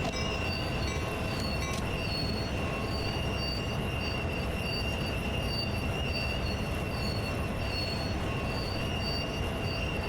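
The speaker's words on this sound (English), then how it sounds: "The train is constantly speeding up." A train runs down Sand Patch Grade in Train Sim World 2 with full brakes applied, a constant loud rolling rumble overlaid by high, sustained wheel squeal throughout.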